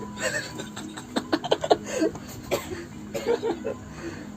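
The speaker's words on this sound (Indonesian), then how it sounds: "Karena lagi batuk-batuk." A person coughs several times in quick, uneven bursts at close range, with a little soft voicing between the coughs.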